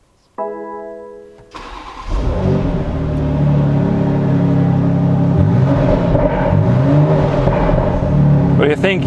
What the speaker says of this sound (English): I suggest we fire the engine